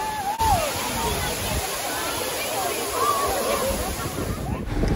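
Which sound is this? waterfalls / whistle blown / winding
waterfalls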